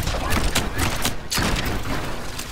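Video game explosions in Wizard with a Gun, a loud dense barrage of booms and bursts filling the whole stretch with brief gaps, under game noise.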